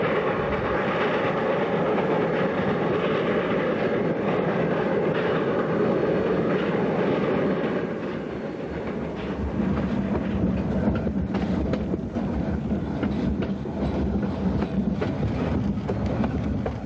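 A Cumbres & Toltec rotary snowplow train clearing drifts rumbles along the track, a loud, steady roar with clattering rail noise and wind buffeting the microphone throughout.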